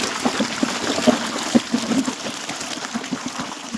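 Water runs into a farm pond as a continuous gushing flow, marked by soft rhythmic thumps repeating every half second or so, fairly close and with no speech.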